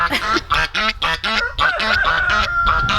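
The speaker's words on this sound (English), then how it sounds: "They just sit in their nest And honk." Geese sitting in their nest on a small farm honk loudly and repeatedly at close range, their harsh calls coming in rapid bursts that overlap one another.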